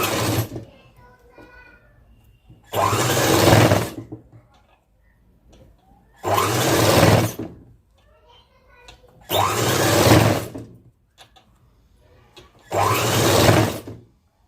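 A sewing machine stitches thin piping onto a long frock in four loud, even bursts of about a second each, separated by quiet pauses.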